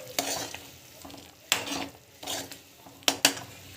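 Paneer curry cooking in a pan, soft bubbling sizzle broken by several short scraping stirs of a spoon against the pan, close and fairly quiet, with no talk.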